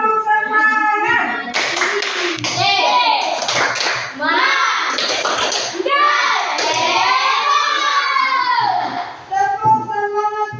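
Schoolchildren in an Indonesian classroom perform a patterned spirit clap, loud group clapping in a rhythmic sequence, with children's voices chanting and calling along throughout.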